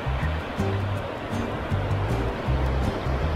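Surf rolling in on Manly beach in Sydney, a steady close wash of breaking waves with continuous broadband roar and low rumbling pulses.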